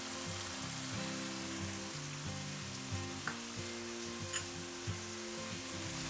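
Kimchi fried rice sizzles steadily in a hot pan with black pepper and salt, a dense continuous frying hiss under a few faint clinks of stirring, no voices.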